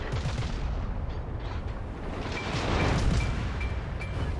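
Naval gunfire from a Cossack destroyer in World of Warships, a dense rumbling barrage of booming shots with a swelling roar near the end, loud and continuous, with faint short pings over it.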